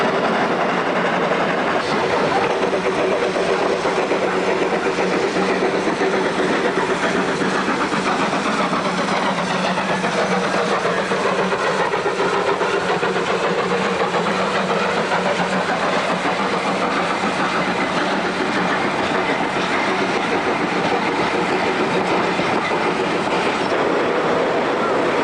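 Queensland Rail heritage steam locomotive, an A10 class engine, running on rails during a recommissioning tour, a loud continuous rumble and clatter that carries steadily throughout.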